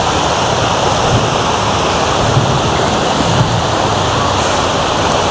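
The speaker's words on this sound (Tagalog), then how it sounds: "Then mao ni siya ang sapa." A creek on the Kuan River in Margosatubig rushes in a dense, steady wash of flowing water, loud and close, with no breaks.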